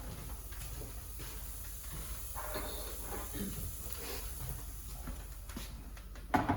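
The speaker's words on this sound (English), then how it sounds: "We're just going to let that simmer for a sec" Mexican quinoa simmering in a pot on a home stove, a steady broadband hiss and soft bubbling that hold evenly throughout, with a brief louder knock right at the end.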